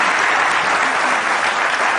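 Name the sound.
audience applause for Arafat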